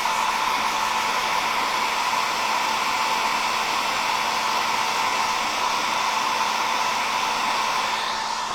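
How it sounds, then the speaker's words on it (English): Continuous loud roar of a blow dryer aimed at freshly painted wood on a miniature Halloween book nook cabinet, steady airflow hiss and motor hum running unbroken throughout, close to the listener. "So I'm just hitting this with the blow dryer."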